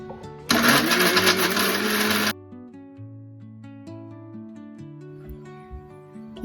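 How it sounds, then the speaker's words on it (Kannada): A mixer grinder whirs loudly for about two seconds, grinding fried tomato, onion, ginger, garlic, coriander, mint and coconut into a masala for capsicum curry, then stops abruptly and quiet background music continues. "ಫ್ರೈ ಮಾಡಿದ ಟೊಮೆಟೊ ಈರುಳ್ಳಿ ಶುಂಠಿ ಬೆಳ್ಳುಳ್ಳಿ ಹಾಕಿ ಮತ್ತು ಕೊತ್ತಂಬರಿ ಪುದೀನ ಒಂದು ಟೇಬಲ್ ಸ್ಪೂನ್ ತೆಂಗಿನಕಾಯಿ ಹಾಕಿ ನುಣ್ಣಗೆ ರುಬ್ಬಿಕೊಳ್ಳಿ"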